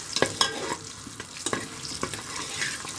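Spices with turmeric and bay leaves are stirred in a hot frying pan for a chicken dish, making a light sizzle broken by repeated scraping and knocking of a spoon against the pan, close up and without voices.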